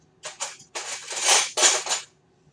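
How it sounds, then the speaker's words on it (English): A metal spoon clinks and scrapes against a bowl while mixing pecan pie filling, in a few short bursts followed by longer stirring strokes, close and fairly loud with no talking. "We just have to mix it thoroughly, right? Thoroughly using a spoon."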